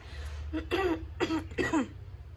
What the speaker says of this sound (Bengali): তারপর কাশি একটু হচ্ছে